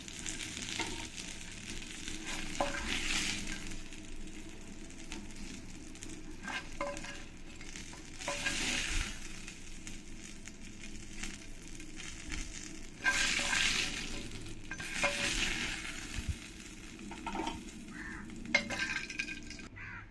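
Koi fish frying in oil in a pan: a steady soft sizzle runs throughout, rising in several louder bursts as the fish is turned, with occasional utensil clinks, fairly quiet and close, no speech.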